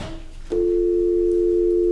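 A conference phone gives a steady, unbroken electronic tone that starts abruptly after a brief soft click and holds at an even, fairly loud level to the end.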